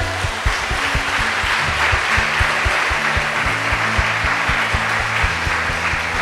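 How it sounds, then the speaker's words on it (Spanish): Church congregation applauding during a worship service, a dense steady wash of clapping over sustained low organ or keyboard chords that hold throughout. "yo te voy a pedir que le des un fuertísimo aplauso a Él"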